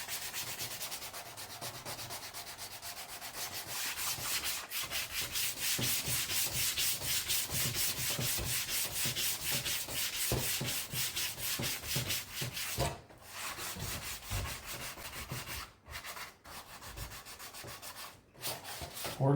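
A wooden Les Paul-style guitar kit body is hand-sanded, a close, continuous rhythmic scratching rub in quick back-and-forth strokes, with a few brief pauses near the end.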